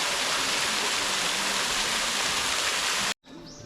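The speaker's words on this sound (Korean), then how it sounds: "인공폭포의 물소리도 참 시원하게 들립니다." Steady rushing and splashing of water from an artificial waterfall beside a metasequoia forest path, loud and continuous, cutting off abruptly near the end.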